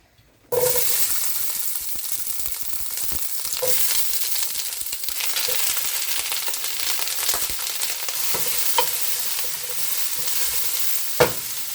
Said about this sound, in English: you're going to throw your onions in and start getting them sauteed